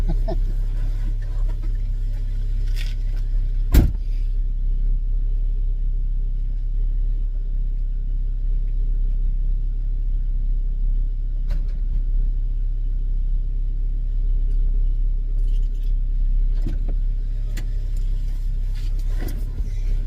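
A Saab 9-3 engine idles steadily while warming up in a garage, a low, even rumble with a few faint clicks and knocks over the drone.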